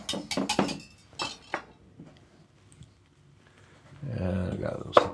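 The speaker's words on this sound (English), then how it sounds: "So whisk that up." Quick clinking taps of a whisk against a bowl as egg yolks are beaten, a burst of sharp close rattles at the start and a louder stretch near the end, with a person talking in between.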